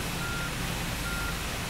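Reversing beeps from a street cleaning vehicle in a night-time video game, a steady warning tone over a constant broad engine and brush hum, fairly close and continuous with no talking.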